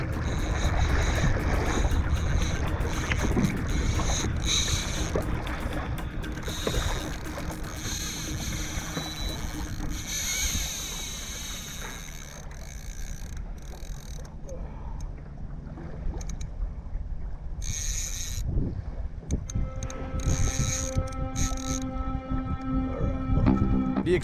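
An Autopilot 136 motorized kayak trolls offshore at a steady speed, with a continuous low motor hum under washing water and breeze.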